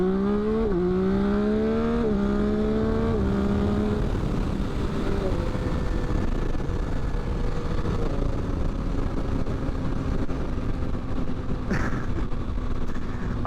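A 2022 Yamaha XSR900 motorcycle engine revs up in first gear as it accelerates to pass a car, its rising pitch stepping through a few surges before settling into a steady drone under wind noise and a voice.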